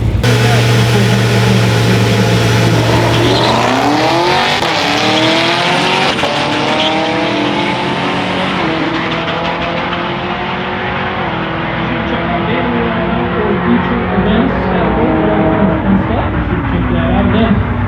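A Chevrolet C10 truck and a Camaro drag race at Bandimere, engines roaring loud and close with tire squeal, rising revs and shifting as they launch and pull away, the crowd and a voice faintly audible beneath.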